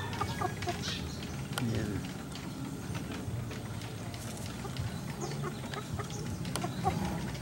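Five-month-old Japanese Shamo chickens of the Dumpo strain, let out of their pen on a Leyte farm, cluck softly in the background amid outdoor ambience, with someone speaking briefly.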